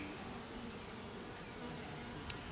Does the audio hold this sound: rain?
no